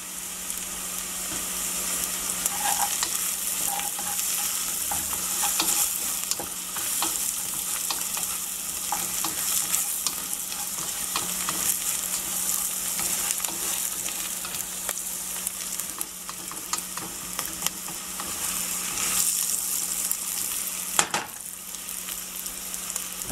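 Paya, meat trotters, fry with turmeric in a pan for paya soup, a constant close hiss and crackle of hot oil with occasional sharp pops and stirring clinks throughout.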